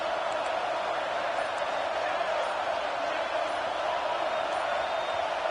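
Stadium crowd roar in the College Football 26 video game, a steady, dense wash of noise that holds level throughout, with no clear speech over it.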